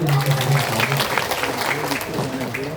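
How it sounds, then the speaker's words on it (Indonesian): Audience applause rolls through a Balinese drama gong performance, dense clapping mixed with crowd noise and voices, fairly close and loud for the whole stretch. "tepuk tangan"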